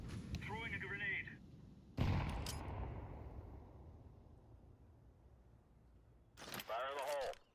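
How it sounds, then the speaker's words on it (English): A grenade detonates in a Counter-Strike 2 match with one loud, sharp blast whose rumble fades slowly over several seconds, with brief talk before the blast and again afterwards. "Throwing a grenade."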